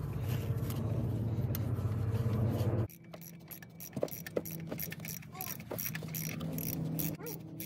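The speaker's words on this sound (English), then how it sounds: "Now we're gonna put this pulley back in here." A pulley is refitted on the engine of a 2020 Chevy Silverado during a serpentine and AC belt job, with a loud, steady mechanical rumble that cuts off abruptly and gives way to close metallic clicks, taps and ratcheting.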